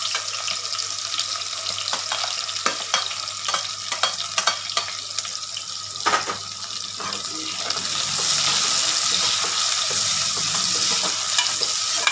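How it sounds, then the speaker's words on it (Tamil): Two large chopped onions sauté in a pan for khichdi with crackling cumin, giving a close, continuous sizzle broken by scraping stirs. Near the end it turns into a steadier, louder hiss like running water. No voices. "வெங்காயம் நல்லா வதங்கி ஒரு பிங்க் கலர் வரணும்"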